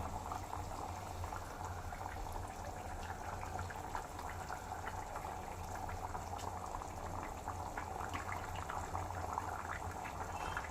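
Leftover chicken curry boils hard over a high flame, a constant bubbling and gurgling that stays even and fairly quiet from start to finish.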